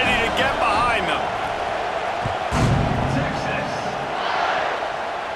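Stadium crowd roars and cheers in the EA Sports College Football 26 video game, a loud continuous wash of noise with a swelling burst partway through, under steady play-by-play commentary.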